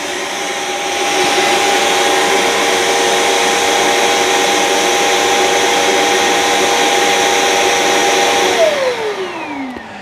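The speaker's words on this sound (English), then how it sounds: "When you come back to the docking station, when you dock it, it's gonna empty everything out of here" A Shark Clean & Empty cordless stick vacuum's docking station roars into its auto-empty cycle, pulling out the dust bin with a loud, steady whine that holds for several seconds and then winds down with a falling tone near the end.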